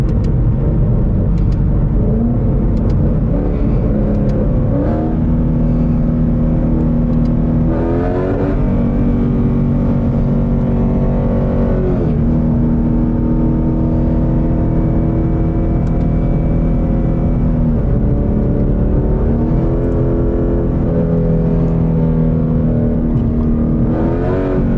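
A Ford Mustang pulls hard from a 60 mph roll, its engine rumbling and rising in pitch through repeated long surges with brief dips at the shifts, loud and steady from inside the car throughout.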